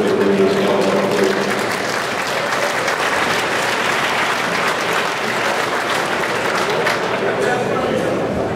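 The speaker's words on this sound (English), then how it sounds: "We can have a round of applause for that gentleman" Audience applause at a light show fills the whole stretch, steady and dense from start to finish, with crowd noise mixed in.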